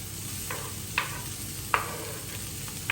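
Sisig fries in a pan in a kitchen in Kuwait, with a soft, low sizzle and a few sharp spatter pops and utensil ticks.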